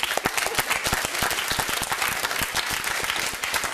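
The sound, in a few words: audience round of applause at end of debate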